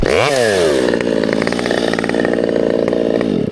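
A chainsaw roars at high revs as it bites into a dead tree, a loud close whine that dips slightly under load and holds steady through the cut.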